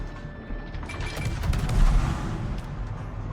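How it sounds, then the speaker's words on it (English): Warship guns firing in a naval combat video game, heard as a dense, sustained barrage of booming reports over a low rumble, growing louder around the middle and then settling back into steady battle noise. "I think it's time to start using the guns."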